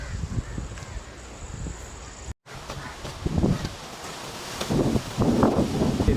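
Strong wind gusting through a mango and citrus orchard on a farm in Pakistan, a steady rushing roar with rustling leaves that swells and buffets the microphone, loudest toward the end, with a brief dropout partway through.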